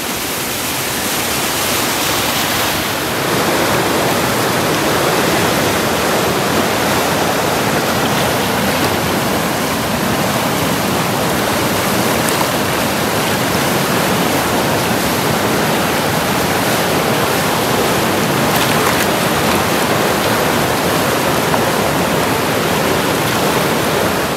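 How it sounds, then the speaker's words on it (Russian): Small waterfall of spring flood water rushing steadily, a dense continuous roar of churning water that stays loud and close throughout, with no voices. "красиво, как маленький водопадик, полноводье."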